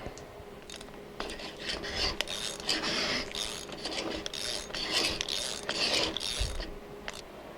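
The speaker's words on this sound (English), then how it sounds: "And then I need a big wrench." A big wrench ratchets on a bolt of a Dauntless V6 engine from a Willys CJ5, giving quiet repeated rasping clicks in short bursts, close and alone.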